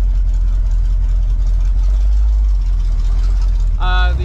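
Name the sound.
Ford 302 V8 engine idling in junkyard truck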